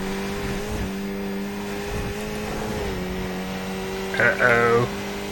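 Race car engine from a sim racing video game, a steady, loud, droning tone with small pitch dips, with a brief voice-like burst near the end.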